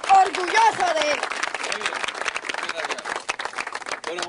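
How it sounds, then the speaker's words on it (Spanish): Crowd applause at a public event during a presidential visit to the town of San Pablo, a dense, steady wash of clapping lasting throughout, with a voice briefly heard over it at the start. "quiero pedir un gran aplauso para el doctor Andrés Pastrana"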